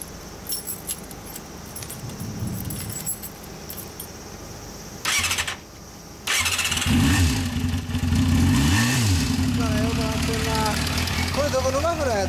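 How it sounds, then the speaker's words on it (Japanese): A Yamaha Zeal 250 (FZX250, 3YX) motorcycle engine runs and revs close by, with several rising and falling throttle blips in the later seconds, mixed with background clatter and people talking. "エンジン音聞かして"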